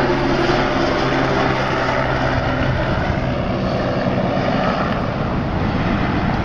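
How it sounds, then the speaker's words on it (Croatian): A helicopter carrying judges circles overhead above a fishing competition on a sunny day, its engine and rotor making a steady, loud, continuous drone with no talk over it. "helikopter ponovo ide u obilazak naših"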